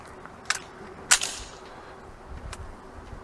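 A rifle firing 5.56 M193 ammunition during a ballistic test at a range sounds as a few sharp cracks, one stronger and nearer than the others, with quiet gaps and faint rumble in between.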